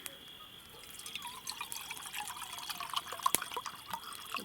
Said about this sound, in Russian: Наливаем водички.